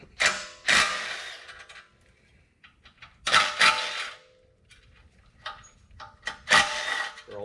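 Ratchet wrench removing 10 mm bolts from the oil pan of a 2.5L Duratec engine, with three bursts of rapid clicking separated by quieter handling and faint metallic taps, close up.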